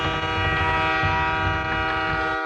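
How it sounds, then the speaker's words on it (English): A dense, continuous train sound effect standing in for a train wreck: loud rumbling rail noise with sustained horn-like harmonic tones throughout, cutting off abruptly at the end, with no talking. "The train wreck."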